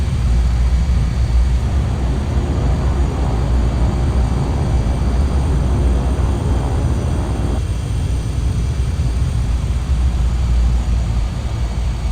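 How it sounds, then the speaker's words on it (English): Reverse thrust from a Kodiak aircraft in the flight simulator FSX: a loud, continuous engine and propeller roar that shifts slightly in tone partway through. "Down, and we reverse. There's a reverse thrust."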